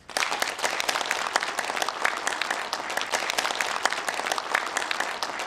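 Steady applause from a forum audience at the Press Center, dense and sustained for several seconds at an even, moderate level.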